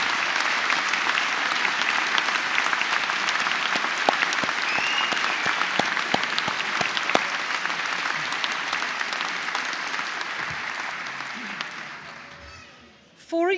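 A warm, sustained round of applause at a university graduation ceremony fills a large hall, dense and steady for about ten seconds before slowly fading out, with a voice resuming at the end.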